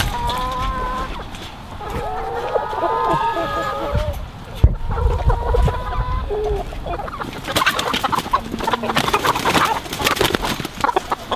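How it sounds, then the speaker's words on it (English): Chickens cluck and squawk over a noisy crowd outdoors in Louisiana, with several birds close and loud amid shouting people and scuffling, the clucks recurring in broken bursts throughout. "So in Louisiana, you can catch a chicken."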